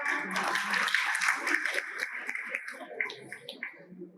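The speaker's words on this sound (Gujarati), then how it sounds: "તો તમે દવા બંધ કરવા માટે અહીંયા આવ્યા છો તો તમારા માટે તાળી પાડો" An audience at a diet workshop in Mehsana claps together, a dense burst of applause that starts loud and thins into scattered claps over a few seconds.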